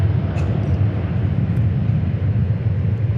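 Airbus A350-1000 airliner, a steady broadband jet engine roar at moderate distance, continuous and even for a few seconds.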